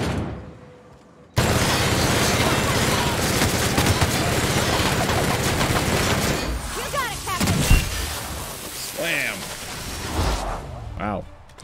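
A minigun fires in The Outer Worlds, a dense, loud, unbroken stream of rapid shots lasting several seconds, then tapering off into scattered impacts while someone talks over the later part.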